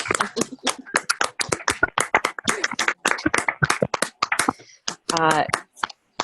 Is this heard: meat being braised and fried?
no